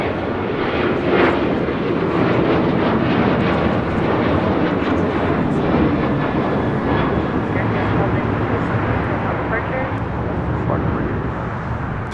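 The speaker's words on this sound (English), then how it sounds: "This is American Airlines 1292 taking off to Nashville, Tennessee on a 737-800." An American Airlines Boeing 737-800 takes off from Los Angeles bound for Nashville, giving a loud, sustained jet roar throughout, with a voice talking faintly underneath.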